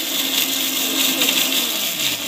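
A mixer grinder grinding chutney whirs steadily at high speed, a loud continuous grinding hum with no pauses, heard close up and alone.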